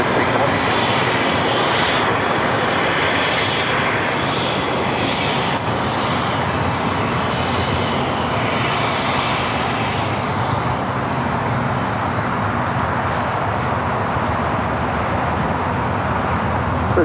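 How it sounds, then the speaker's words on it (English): An Emirates airliner begins taxiing at LAX, its engines producing a loud, continuous roar with a high whine that holds steady throughout, close and dominant over faint background traffic. "Emirates now starting taxi over here to the south side."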